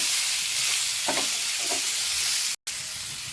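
Guava chutney ingredients sizzle steadily in hot oil in a pan, a close, even frying hiss with a couple of soft stirring bumps and a brief dropout.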